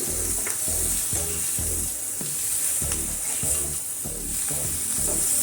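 Potatoes and bitter gourd fry in a curry with tomatoes and green chillies, a steady close sizzle broken by regular scraping stirs of the spoon through the pan, with no talking.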